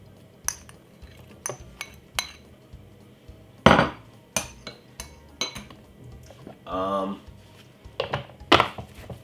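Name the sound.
frozen fruit dropped into blender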